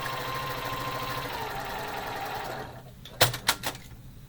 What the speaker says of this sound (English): I'm going to sew it that way